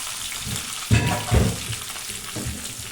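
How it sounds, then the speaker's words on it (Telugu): Curry leaves, green chillies and mustard seeds crackle and fry in hot oil for a banana-flower stir-fry, a steady close sizzle with two louder bursts near the start as more goes into the pan; no talking. "కరివేపాకు కూడా వేసుకొని వేగనండి"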